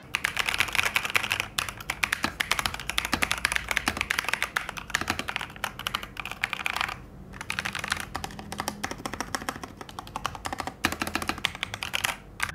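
Steady, continuous typing on a Logitech Aurora mechanical keyboard with linear switches, dense rapid keystrokes close up with a brief lull midway, no talking.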